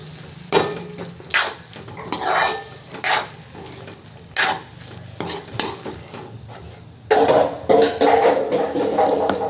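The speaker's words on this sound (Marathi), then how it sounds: "आता ह्यात घालूया बारीक चिरलेली कोथिंबीर आणि छान मिक्स करून घेऊया।" A spatula stirs cooked hyacinth bean and potato dry vegetable with chopped coriander in a pan, giving repeated scraping, clattering strokes against the metal in irregular bursts over a faint background sizzle, with no talking.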